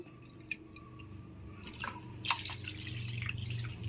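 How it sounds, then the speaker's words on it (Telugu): Coconut water pours and splashes into a container, with scattered drips and a soft, steady trickle over a low background hum. "రెండు గ్లాసులు కొబ్బరి నీళ్ళు కొలత వేసుకొని ఇస్తున్నాము"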